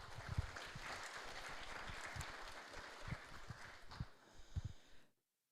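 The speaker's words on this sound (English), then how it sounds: "Big applause for them." A crowd applauds university programming teams from Ljubljana and Maribor at a contest opening ceremony in Prague, a dense steady clatter of clapping that runs about five seconds and then stops abruptly.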